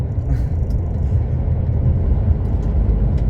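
A car drives along a village road in Spain near Badajoz. The interior gives a steady, loud low rumble of engine and tyre noise with no breaks.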